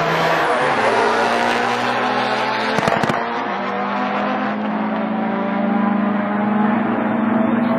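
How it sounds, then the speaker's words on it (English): Sport compact drag race cars on an NHRA strip in Las Vegas in 2007, loud engines roaring steadily with a sharp popping burst partway through as the cars accelerate down the track. "He's going to be racing Theodore Hagen."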